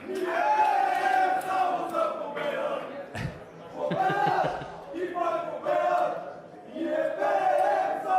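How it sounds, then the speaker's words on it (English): A crowd at a poker main event final table in Barcelona sings a Bulgarian chant, loud massed voices rising in rhythmic phrases with a brief pause midway. "This is one of my favourite Bulgarian chants."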